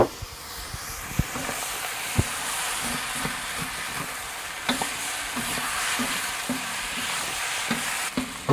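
Fried rice with soy sauce stir-fried in a wok on a Big Green Egg, a constant crackling sizzle with repeated scraping clicks of a utensil against the metal, close and steady.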